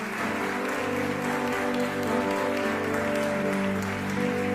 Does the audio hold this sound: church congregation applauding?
yes